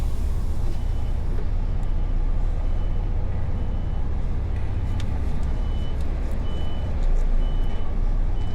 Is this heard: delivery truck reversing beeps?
yes